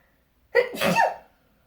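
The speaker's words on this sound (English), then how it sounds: "I feel like I have to sneeze." A single close sneeze with a sharp intake and burst, alone in quiet surroundings.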